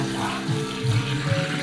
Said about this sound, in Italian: acqua di cottura della pasta